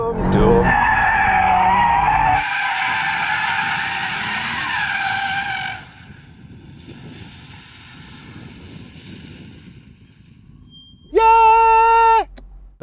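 An Audi RS3 drifting, its tires skidding in a loud sustained screech over engine roar. The squeal fades to a quieter rumble midway, then a brief loud burst of tire squeal returns near the end.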